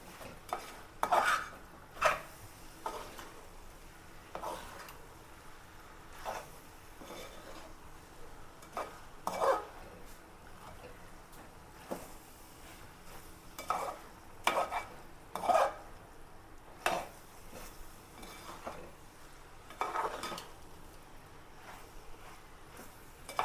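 A utensil scrapes and clinks in a pan at irregular intervals as fried shrimp are stirred in, with a faint sizzle beneath the stirring strokes.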